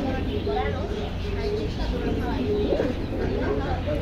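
Pigeons, including high-flyer breeds, coo softly and repeatedly at the pigeon market in Jinjira, Bangladesh, set against a constant busy crowd murmur while someone talks over them.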